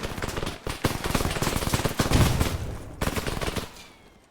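Loud, close automatic gunfire rattles in rapid bursts in the Arma 3 military video game, with a heavier booming grenade blast midway, then a brief pause, another burst and a fading tail; no voices are heard.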